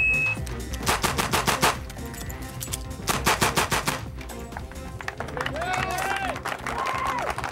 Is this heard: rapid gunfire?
yes